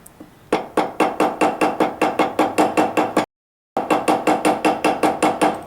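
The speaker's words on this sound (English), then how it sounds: "So I'm going to tap this down," A steel hammer taps a rivet on a wire bangle bracelet in a steady run of crisp, close metallic strikes, about four per second, pausing briefly before resuming at the same even rhythm.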